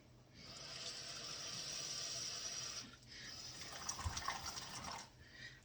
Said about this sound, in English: I'm going to put water.